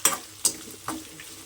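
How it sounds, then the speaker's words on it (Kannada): Onion and tomato frying together in a pan, with three distinct scrapes and stirs against the pan over a low sizzle, close by and with no voices. "ಈಗ ಟೊಮೆಟೊ ಸೇರಿಸ್ಕೊಂಡು ಚೆನ್ನಾಗಿ ಫ್ರೈ ಮಾಡ್ತಾಯಿದ್ದೀನಿ"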